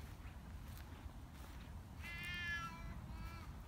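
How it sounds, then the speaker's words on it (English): A cat gives one drawn-out meow, faint but clear, over a low steady background rumble, with no one speaking. "What's that cat that doesn't like me?"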